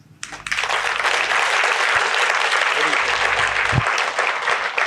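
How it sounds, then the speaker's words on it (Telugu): An audience at a spiritual youth meditation gathering bursts into loud applause that starts abruptly and holds as a thick, continuous roar of clapping, with a few voices faintly mixed in. "ఇంకా గట్టిగా చప్పట్లు పెడదాం"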